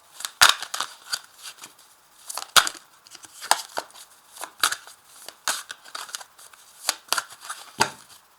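Oracle cards are laid out one by one during a card reading, making a close series of crisp snapping slaps and papery rustles at an irregular pace, with no voices.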